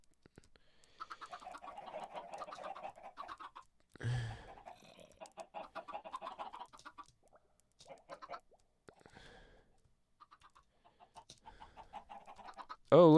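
Minecraft chickens in a chicken farm give scattered short clucks and bursts, soft and somewhat distant, spread across a quiet stretch with a few louder pops.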